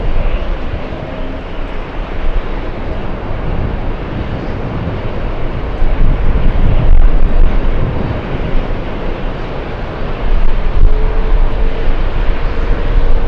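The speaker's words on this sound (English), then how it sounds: "And pretty smooth and stable for the Etihad Super, behemoth of the skies." A huge Etihad superjumbo jet lands at JFK airport, its steady, heavy engine roar filling the air and swelling louder toward the end, with some wind buffeting and no talk.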